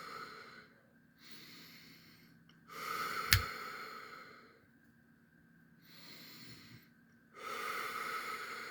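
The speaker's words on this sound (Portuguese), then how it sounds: "Então vamos lá, estou respirando fundo," A therapist breathes deeply during an emotional rewriting technique, giving slow, close breaths in and out in alternating cycles, with one sharp brief snort-like burst in the middle and quiet pauses between breaths.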